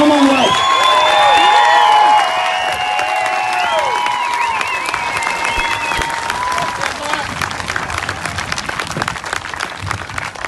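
A crowd at the Millions March rally claps and cheers in a dense, steady roar, with a voice and a few whoops riding over the start before the applause carries on alone.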